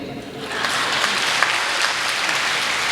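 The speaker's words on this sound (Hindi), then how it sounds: "आप यहां पे अपनी तालियां नहीं रोक पाएंगे" Audience at a Hindi comedy poetry gathering breaks into sustained applause, dense and even clapping that swells slightly after the first half second and carries on loudly to the end.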